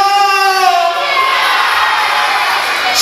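A crowd of children at a church confirmation celebration in Tabata shout a loud, drawn-out cheer in unison, the chorus fading into a noisy collective roar.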